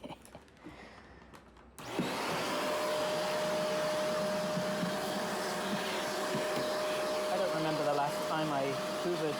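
A household vacuum cleaner with a long attachment, used on placemats and drawers, switches on after a quiet moment and then runs as a loud, steady whining drone close by, with slight changes in pitch as it moves.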